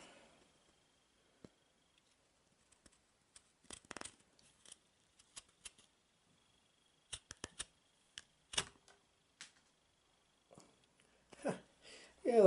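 A freshly honed chisel cuts into a workpiece, making a series of short, sharp clicks and scrapes that come in irregular bursts, with quiet gaps between them and a louder scraping cluster toward the end.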